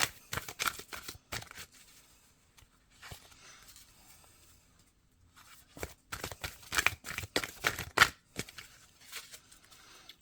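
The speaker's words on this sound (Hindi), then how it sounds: "लेकिन पहले मैं शफल कर लूँ।" A deck of tarot cards is shuffled up close in quiet, with several short bursts of riffling and slapping card sounds separated by near-silent pauses.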